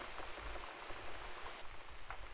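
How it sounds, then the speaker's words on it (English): Rain falls in the Seiklus video game as a soft, even patter with faint scattered droplet ticks, quiet and continuous. "We have somewhere new, and it's where it's raining, apparently."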